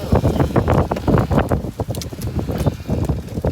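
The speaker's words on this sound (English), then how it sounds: "Wow, it's a windy day." Gusty wind buffets the microphone in uneven rumbling bursts, loud and close, continuing for a few seconds with no voices.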